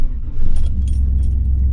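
A 1998 Chevrolet Silverado pickup starts with a quick crank and catches, settling into a loud, deep, steady idle close by, with a faint metallic jingle of keys over the engine.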